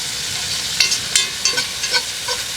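Lamb's fry and mushrooms frying in a camp oven, a steady sizzling hiss punctuated by several sharp scraping stirs as the food is turned, close up with no talk.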